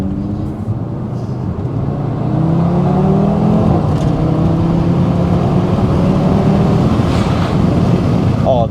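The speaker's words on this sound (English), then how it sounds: "it's like they're blipping the throttle as soon as you drop a gear" Audi RS3 8V saloon, a 400 bhp sedan, revs hard with rising and falling engine tones and throttle blips on downshifts, loud and close throughout, with a voice faintly underneath.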